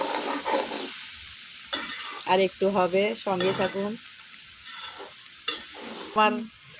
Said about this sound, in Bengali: ফুলকপির ডাঁড়া কিভাবে ভাজি, আমার সঙ্গে থাকুন দেখেন